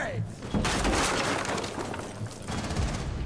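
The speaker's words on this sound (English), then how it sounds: "Firing grenades!" Grenade launcher fire in an online competitive shooter: loud rapid bursts of shots and crashing impacts fill most of the moment, with chatter from players underneath.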